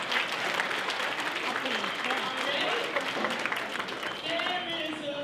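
A breakfast ceremony crowd claps for a committee, a dense sustained round of applause with voices mixed in and a few cheers rising toward the end.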